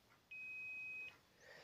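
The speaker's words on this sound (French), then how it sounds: "si ça fait bip, c'est que ça passe." A multimeter set to continuity gives one clean, steady electronic beep lasting under a second while probing the thermostat of a Senseo coffee machine, clear against a quiet background.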